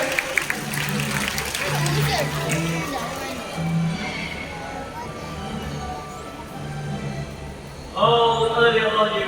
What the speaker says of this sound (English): let's give Martin and Maya a warm round of applause